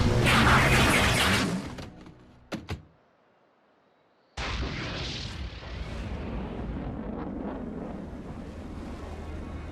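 Cartoon missiles exploding in an animated Transformers action show, with a loud roaring blast, sudden near-silence broken by a couple of sharp cracks, then another heavy rumbling explosion that trails off.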